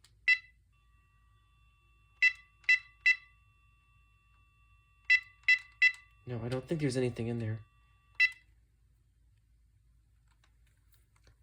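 An old AT&T 9410 cordless phone, antennas shattered, emits short, sharp button beeps in quick clusters of two and three, close and clear, with a brief spoken remark partway through and one last beep after it.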